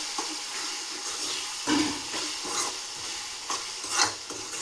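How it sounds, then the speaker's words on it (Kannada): Chopped capsicum fries in a pan, a soft continuous sizzle broken by a few scraping stirs of a spoon, close and moderately loud. "ಸೊ ಕ್ಯಾಪ್ಸಿಕಮ್ ಕೂಡ ಚೆನ್ನಾಗಿ ಫ್ರೈ ಆಗಿದೆ."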